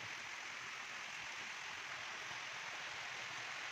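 Rain beginning to fall under dark clouds, a steady, even wash of fine hiss that holds at a constant faint level throughout, with no voices over it.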